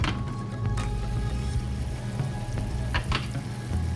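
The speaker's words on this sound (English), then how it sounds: "once that starts to simmer and bubble, we'll throw in our shrimp" Shrimp scampi in Pinot Grigio simmers and sizzles in a pan, a steady close bubbling hiss with a few soft clinks and stirring sounds.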